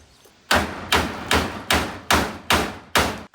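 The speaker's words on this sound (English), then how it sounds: "Let me grab a hammer" A hammer strikes metal bars with seven loud, evenly spaced blows at close range, each ringing out briefly before the next, with no talking.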